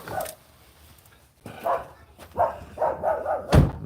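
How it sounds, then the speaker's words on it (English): A neighbor's dog barks in short bursts, several sharp yips and woofs spaced over a few seconds, moderately distant, ending with one louder close bark. "Neighbor's dog barking."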